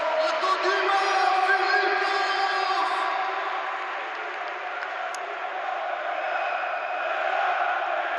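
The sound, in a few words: crowd cheering at volleyball match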